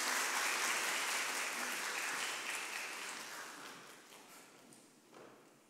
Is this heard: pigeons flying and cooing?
no